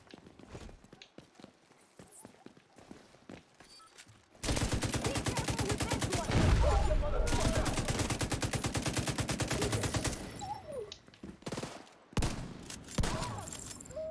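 Shotgun fire in Tom Clancy's The Division 2: a loud, rapid run of shots lasts about six seconds. Quieter scattered clicks and thumps come before it, and a few isolated bangs follow.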